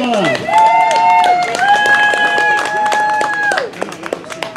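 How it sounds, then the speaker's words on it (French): Crowd at a Canadian 10 km roller skating championship applauding the race winner, with brisk claps and cheering under sustained whistle-like tones and voices. "On peut l'applaudir, le grand vainqueur."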